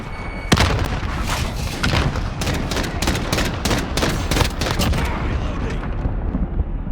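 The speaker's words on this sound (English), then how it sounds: "Throwing grenade!" A grenade in Call of Duty Modern Warfare bursts with a heavy, close boom, then a clatter of rapid battlefield gunfire and further thuds follows without a break.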